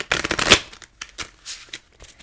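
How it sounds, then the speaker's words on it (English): Rapid riffling and flicking of tarot cards being shuffled, a dense burst at first then several shorter soft shuffles with brief pauses, close and clear. "I'm just going to shuffle the cards a few times"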